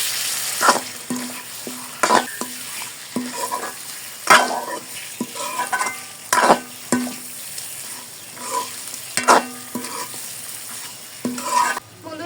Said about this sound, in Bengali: মাংসগুলো দেওয়ার পরে খুব ভালো করে কষিয়ে নিতে হবে।